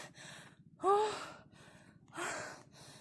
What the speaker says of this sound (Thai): ฟังเสียงหอบสิคะ อยากรู้ว่าเหนื่อยแค่ไหนต้องฟังเสียงหอบค่ะ